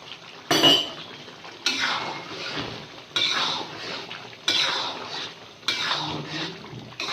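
Metal spoon scraping and clattering against a pot as cream is stirred into chicken makhni karahi, in five distinct bursts of stirring separated by short pauses, close and fairly loud with no talk.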